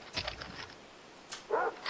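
A dog gives a few brief, faint barks and whimpers in the Far Cry 3 video game, in short bursts over quiet game ambience.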